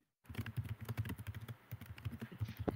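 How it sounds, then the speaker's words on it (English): Rapid, continuous typing on a computer keyboard, dense clattering key presses in an uneven fast rhythm, close and fairly loud, with no talk over it. "Insane typing."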